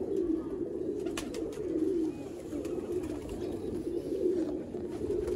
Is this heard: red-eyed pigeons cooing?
yes